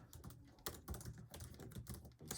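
Quick, uneven keystrokes on a computer keyboard while writing code, close and fairly quiet, with bursts of rapid clicks and short pauses.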